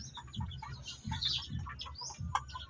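Backyard chickens cluck and call near a brooder covered with corrugated iron sheeting, in a run of short, close bursts repeating every half second or so over soft background noise.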